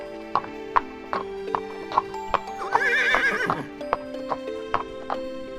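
Horses ridden by a band of outlaws into a village, steady clip-clop of hooves throughout with a loud whinny in the middle, close and clear with no talking.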